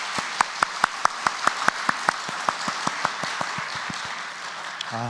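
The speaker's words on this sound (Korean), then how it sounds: "우리 하나님께 영광의 박수 올려드리겠습니다." Rhythmic hand clapping from a church congregation during a Sunday worship service, steady and fairly crisp, about twenty claps in quick succession before fading out.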